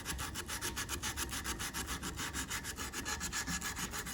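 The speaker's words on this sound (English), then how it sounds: "I'll take the end where it's not worn out, and I'll sand that flat spot" Sandpaper rubbed in quick, steady back-and-forth strokes across a flat spot on a rusted blower wheel, a close, continuous rasping with an even rhythm of about seven strokes per second and no talk.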